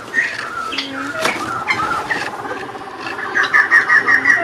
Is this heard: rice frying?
no